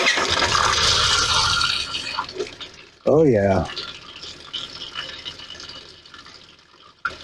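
Hot water runs from a tap in a Sun-Lite 16BH RV, fed by the water pump, a rushing stream that fades out partway while a person briefly speaks.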